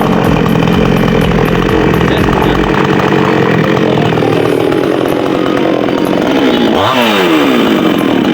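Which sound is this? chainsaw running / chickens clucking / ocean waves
chainsaw running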